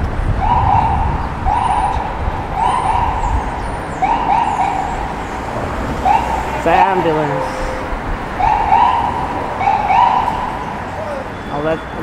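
Ambulance siren wailing in repeated rising-and-falling bursts through Times Square traffic in New York City, loud and close behind a cyclist on Broadway amid street bustle and voices.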